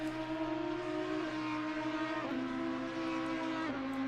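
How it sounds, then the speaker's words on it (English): A V10 GT race car engine from the Audi and Lamborghini field wails at high revs in Assetto Corsa Competizione at Indianapolis Motor Speedway, the pitch dropping abruptly at two upshifts while the tone holds steady and loud. "The V10 engine that the Audi and the Lamborghini sport are probably one of my favorite sounds."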